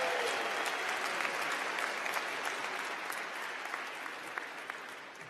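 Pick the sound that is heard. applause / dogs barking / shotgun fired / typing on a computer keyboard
applause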